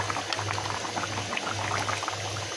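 Water boils steadily in a pot of fried rohu fish curry with potatoes, a continuous close bubbling simmer with soft pops, no voices.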